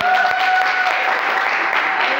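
Congregation applauding loudly in a French-speaking church service, a brief burst of dense clapping over sustained tones and mingled voices.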